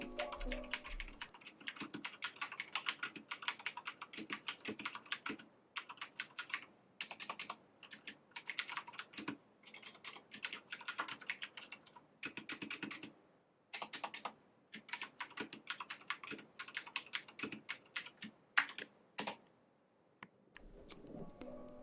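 Fast typing on a cute Epomaker mechanical keyboard with koi fish and cat keycaps, crisp close clacks in steady runs broken by short pauses.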